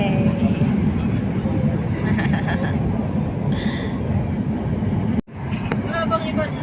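A loud, steady rumble fills the ride aboard an LRT light rail train, with a brief dropout near the end and voices chattering over the noise.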